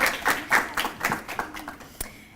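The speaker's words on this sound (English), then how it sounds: "And yes, let's clap for that." A small group at a community college graduation claps for a couple of seconds, uneven bursts of applause fading out toward the end.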